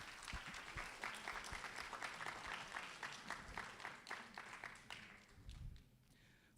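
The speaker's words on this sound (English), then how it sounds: "So let's give ourselves a round of applause." An audience at a university faculty day gives a round of applause: fairly soft, somewhat distant clapping that holds steady for about five seconds and then quickly dies away.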